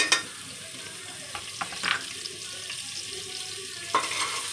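Finely chopped onion with bay leaf frying in oil for tempering in a Maharashtrian chicken and mutton curry, a steady sizzle with occasional scraping stirs and clinks of the spoon against the pan.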